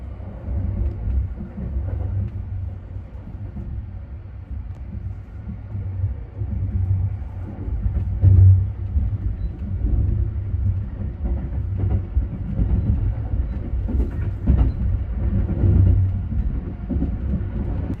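A Sunrise Seto sleeper train rolls steadily along the Tokaido Line rails, a low continuous rumble heard from inside the carriage, with occasional soft clacks and no voices.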